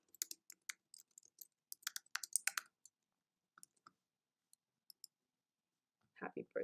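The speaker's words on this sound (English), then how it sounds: "you could just click anywhere on your image, and you can just start typing" Typing on a computer keyboard while adding text to an image in Photoshop: scattered bursts of quick, close key clicks, with a short stretch of talking near the end.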